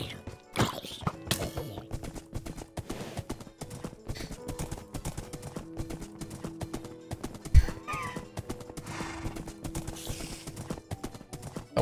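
Horse hooves clip-clop steadily through a video game scene in a medieval fantasy world, with a clear neigh and whinny rising partway through over a low ambient backdrop.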